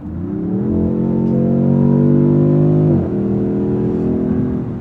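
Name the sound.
car engine accelerating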